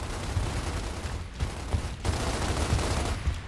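Video game gunfire, a dense, continuous stretch of rapid shots with short gaps, loud and steady, no talking.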